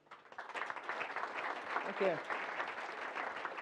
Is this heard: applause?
yes